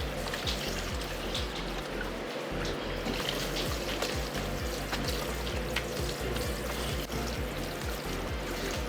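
Water running steadily from a salon tap while a woman's hair is shampooed, a continuous close pouring hiss with no talk.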